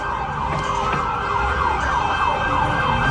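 A wailing siren rises and falls in a repeating cycle, heard at a moderate distance over a low background rumble.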